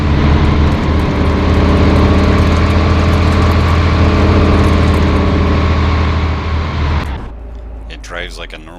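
Panzer IV style WW2 tank engine in the Arma 3 IFA3 mod, a loud steady low rumble with layered harmonic drone lasting about seven seconds, then cutting off abruptly to quieter clicks and faint sounds.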